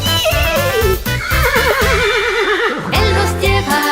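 A horse neighs in a loud, wavering whinny that rises and falls, followed by a second shorter whinny, with no talking.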